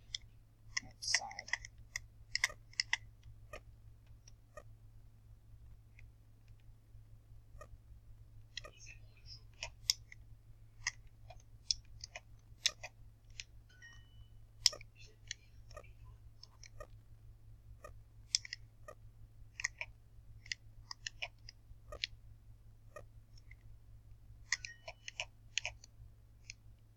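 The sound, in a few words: computer mouse clicking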